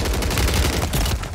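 Steady, dense automatic gunfire from a Warzone battle royale match, loud and continuous throughout with overlapping bursts and no voices on top.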